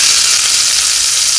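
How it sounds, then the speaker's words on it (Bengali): Eggplant slices fry in hot oil in a pan, a loud, close, continuous hiss and crackle of sizzling with no voices. "এবার এক এক করে বেগুন ভাজা করে নেব"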